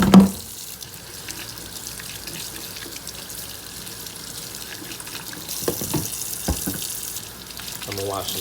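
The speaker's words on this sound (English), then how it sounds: "Let me wash my hands." Kitchen tap water runs steadily into a sink while hands are washed under it, a continuous close splashing rush with a few louder splashes and knocks toward the end.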